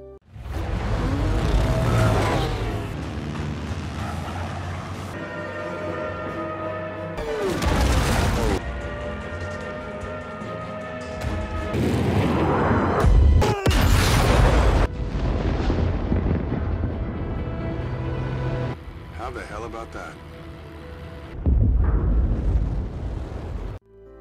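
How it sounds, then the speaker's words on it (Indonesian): A German warplane crashes into a bridge and explodes in a film scene, heard as loud booming blasts and crashing bursts set against dramatic film score, with several heavy impacts spread across the passage. "pesawat Jerman itu menabrak jembatan dan meledak"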